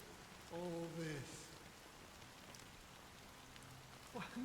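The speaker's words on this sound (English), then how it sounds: "But it's still raining." Rain falls in Honkai Star Rail as a steady, quiet hiss of drops on surfaces, and a voice speaks briefly over it near the start and end.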